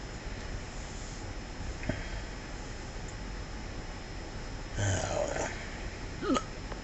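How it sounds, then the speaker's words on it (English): A person with persistent hiccups lets out a few faint, abrupt hiccups spaced several seconds apart over a quiet, steady indoor background hum. "I have the most annoying hiccups"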